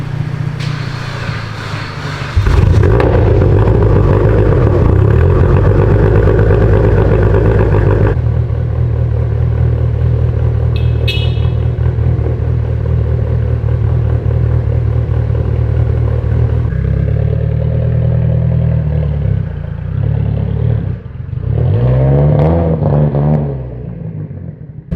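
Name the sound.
car engine running after jump starting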